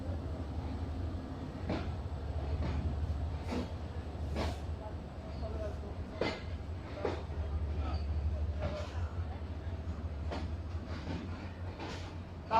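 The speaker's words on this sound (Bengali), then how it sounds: "8টা 51 মিনিটে ছেড়ে যাচ্ছি খুলনা রেল স্টেশন" The Rupsha Express rolls out of Khulna railway station with a heavy low rumble and regular clicking wheel clacks over rail joints, heard from inside the carriage.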